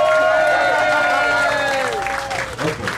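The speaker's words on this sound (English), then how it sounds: "Let's give another big applause to our bartender" A party crowd applauding and cheering for the bartender at a birthday gathering in Puerto Vallarta, a loud steady clatter of clapping mixed with voices and whoops.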